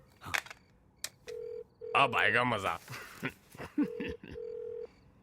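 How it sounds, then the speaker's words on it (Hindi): A phone line rings with repeated steady electronic tones, interrupted by a voice speaking briefly over it and a few sharp clicks. "It's ringing."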